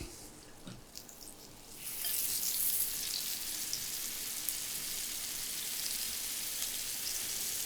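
Peppercorn-crusted steak au poivre frying in clarified butter in a pan: after a quiet couple of seconds, a loud, steady close sizzle rises and holds without letting up, with no talk over it.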